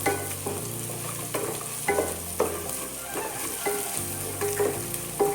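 Onion, garlic and green chilli fry in a pan for a dried-prawn egg curry, making a close, continuous sizzle broken by repeated scraping and stirring strokes about every half second to second.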